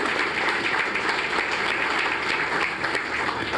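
An audience at an aquaculture and fisheries field day gives a round of applause for the station staff, a steady, fairly distant wash of clapping with no voices over it.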